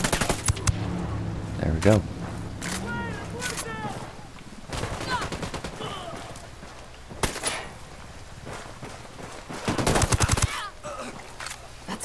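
Gunfire in Ghost Recon: Wildlands during a firefight: repeated bursts of rapid automatic shots, some close and loud, with a dense burst near the end, while voices talk throughout.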